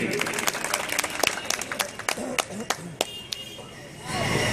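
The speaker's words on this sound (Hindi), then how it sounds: "एक बार जोरदार तालियां प्रदीप गुप्ता जी के लिए।" An outdoor public meeting crowd applauds at a political gathering, scattered claps that thin out into separate sharp hits, then a swelling rumble of noise, with voices murmuring throughout.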